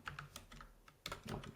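Soft, irregular clicks of keys tapped on a computer keyboard, a short burst of quiet typing with uneven spacing between strokes.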